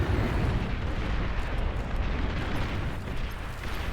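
Napalm artillery in a strategy video game, a dense continuous roar of overlapping blasts and rumbling booms with no talking.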